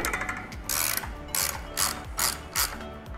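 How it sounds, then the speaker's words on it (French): A ratchet wrench with an 18 mm socket loosens wheel nuts in about five quick rhythmic bursts of clicking, close and crisp, with short pauses between strokes. "On va venir desserrer tout ça."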